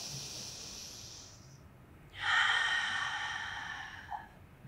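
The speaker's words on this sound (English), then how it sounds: "Let's do one long breath in and out." One long breath during a Pilates mat workout: a soft, airy inhale lasting about two seconds, a brief pause, then a louder, breathy exhale close to the microphone.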